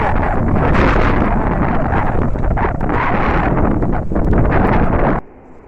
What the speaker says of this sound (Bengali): দেখো বাতাস আরম্ভ হয়ে গেছে।